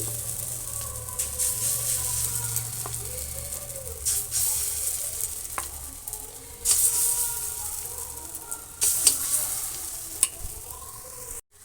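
Chana and moong dal fritters crackle and hiss in hot oil, a steady sizzle broken by occasional sharp pops and stirring clicks.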